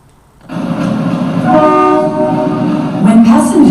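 A passenger train rumbles past at close range in India, with a sustained loud roar, a steady sounding horn tone through the middle, and brief squeals and rattles near the end.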